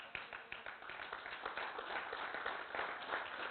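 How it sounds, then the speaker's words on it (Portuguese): A church congregation clapping and applauding during a worship seminar, a dense, continuous patter of many hands, fairly faint and distant, without speech over it. "Um salve de palmas ao Senhor."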